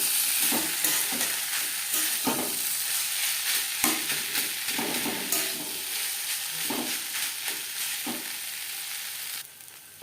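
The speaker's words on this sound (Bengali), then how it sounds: "পাঁচ ছ মিনিট রান্না করে নেব।" Vegetables and hot mashed boiled potato cook in a pan for a vegetable chop mixture, giving a steady close sizzle-fry with repeated scraping stirs of a spatula throughout, no talking.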